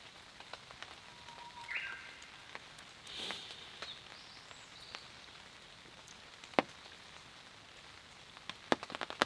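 Steady rain pattering on surfaces at a forest bushcraft camp, a soft continuous hiss with scattered sharper drops and a few faint bird calls, no voices.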